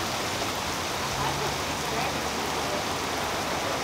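Heavy rain pours steadily during a flash flood, a dense, close, unbroken roar of water that holds at an even loudness throughout with no gaps.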